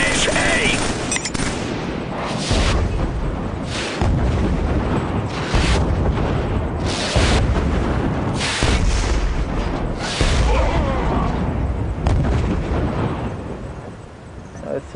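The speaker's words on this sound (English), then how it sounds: "I assume that was the mortar strike." Mortar strike in Killzone 3 beta: a run of heavy booming explosions and gunfire, loud and repeated at irregular intervals across the whole stretch.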